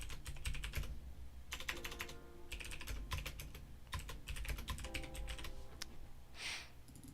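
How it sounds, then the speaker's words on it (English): Steady computer keyboard typing, close and fairly loud, with quick bursts of keystrokes separated by brief pauses over several seconds and no voices. "I can hear you typing, but not the music."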